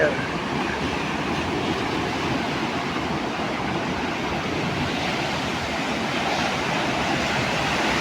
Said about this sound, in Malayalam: ആ തിരവന്നടിക്കുന്നത് ഉണ്ടോ ഇര വന്നിട്ട് അടിക്കുന്ന